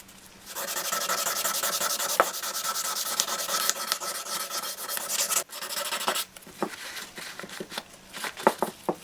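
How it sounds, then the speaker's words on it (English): Motorcycle engine cover being hand sanded with 400 grit sandpaper, a close, steady rasping rub in long strokes that pauses briefly, then returns as shorter, choppier scrubbing. "we're going to use this 400 grit to further kind of clean off and refine the surface before we start polishing"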